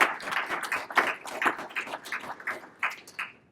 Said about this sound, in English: Let's do a round of applause for our.